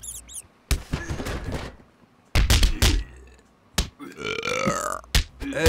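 A burping bad-breath attack in a video game, heard as a few loud, close bursts of belching and gurgling sounds with short silent gaps between them.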